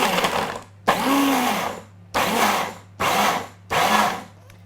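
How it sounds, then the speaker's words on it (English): A blender pulses Brazil nuts into a fine powder in four loud, even bursts of whirring motor, each about a second long, with short quiet gaps between them. "we're going to use the blender, pulse a few times until we make a nice fine dust out of the Brazil nuts"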